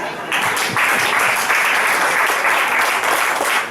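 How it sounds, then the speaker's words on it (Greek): An audience at an open discussion event in Thessaloniki breaks into loud, sustained applause after a short lead-in. The clapping stays thick and even for over three seconds. "Οπότε ένα χειροκρότημα για εσάς."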